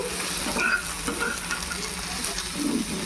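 Cashews sizzle and fry in a pan of egg malai tikka masala while being stirred, a steady close crackle with light scraping throughout and no talk.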